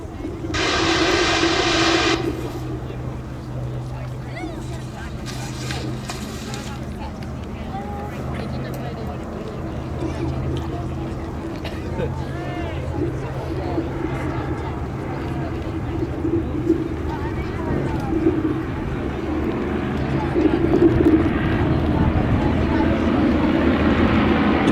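Several de Havilland Tiger Moth biplanes fly in formation at the Duxford Battle of Britain Airshow, and their piston engines make a steady mid-distance drone that swells slightly toward the end, beneath crowd ambience and occasional birds.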